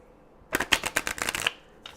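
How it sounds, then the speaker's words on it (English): Tarot cards are shuffled by hand in a single quick riffle lasting about a second, crisp and close, with quiet before and after. "I'm going to give these 3 shuffles, go through one more time"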